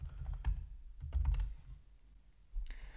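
Bursts of computer keyboard typing entering a terminal command while building an Angular frontend, with quick clustered keystrokes, a pause, then a few more taps, close and fairly quiet with no talk.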